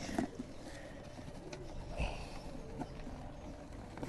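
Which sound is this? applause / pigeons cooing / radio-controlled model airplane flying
pigeons cooing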